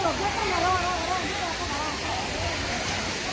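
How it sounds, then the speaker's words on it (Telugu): Steady broadband rushing of falling water fills the clip, loud and continuous, with a faint tonal whine weaving through it. "చూడండి వాటర్ ఫాల్స్ అయితే వచ్చేసింది"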